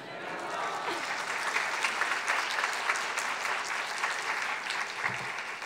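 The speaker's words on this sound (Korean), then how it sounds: "나오실 때 할렐루야 하며 큰 박수로 맞이해 주셨으면 좋겠습니다" A church youth-group audience claps steadily for a guest pastor being welcomed to the stage, a dense, sustained wash of applause with no voices standing out.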